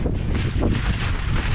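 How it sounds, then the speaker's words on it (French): Strong wind buffeting the microphone, a loud continuous rumbling roar with gusty swells. "Le vent s'est levé."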